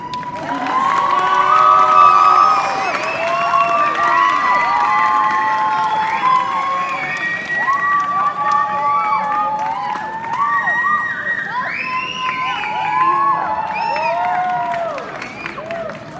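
Graduation ceremony audience cheering and applauding, a loud sustained roar of whoops, shouts and clapping from a large crowd that swells and stays busy throughout.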